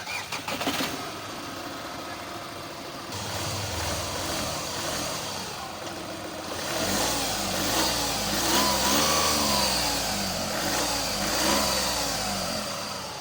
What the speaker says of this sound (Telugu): ఒకసారి మీకు ఇంజిన్ స్టార్ట్ చేసి కండిషన్ కూడా ఒకసారి చూపిస్తాను